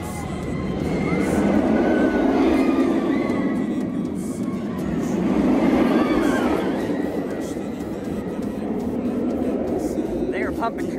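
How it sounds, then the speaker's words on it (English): A roller coaster train at a Six Flags park rumbles past twice on a rainy day, swelling and fading in long roaring waves, with distant voices and screams mixed in. "They are pumping trains out here."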